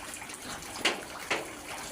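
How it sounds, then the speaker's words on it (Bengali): Floodwater runs through the area after half an hour of heavy rain, a soft steady wash of flowing water with two brief, sharper splashes, no voices. "আধা ঘন্টার বৃষ্টি, পানির বন্যা"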